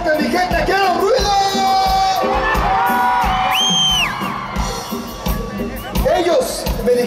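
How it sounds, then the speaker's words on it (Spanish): A concert crowd at a show whoops, yells and cheers loudly and continuously, with shrill whistles and shouts rising above the din. "Esta vez quiero que griten bien fuerte, mi gente. ¡Quiero ruido!"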